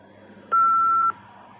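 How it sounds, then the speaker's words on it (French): One clear electronic beep, steady and pure in tone, sounds for about half a second over quiet line hiss. "laissez-moi un message après le bip."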